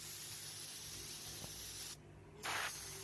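A spray gun applies red paint samples in layers, a close, steady hissing spray that cuts out briefly and then resumes in a louder burst.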